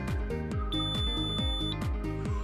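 A DecoBike bike-share docking station in South Beach gives a single steady electronic beep lasting about a second, partly buried under loud rhythmic background music.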